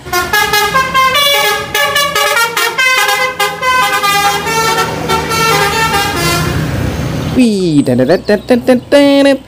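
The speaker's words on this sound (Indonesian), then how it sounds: "ada bus telolet" A toy bus sounds a telolet horn, a bright multi-tone melody of repeated honks that runs loud and close, ending in a wavering warble.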